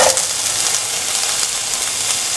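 Red chili sizzling in hot oil in a pan for a lemon mung bean stir fry, a steady loud crackling fry with a sharp initial pop, close and continuous throughout.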